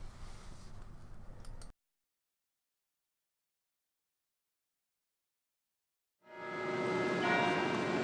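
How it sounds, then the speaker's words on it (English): Church bells of St. Patrick's Cathedral in New York ring out with a resonant, ringing tone after a long stretch of silence, following a short burst of noisy ambience at the start. "Every Sunday morning in New York, the bells of St. Patrick's echo through the city"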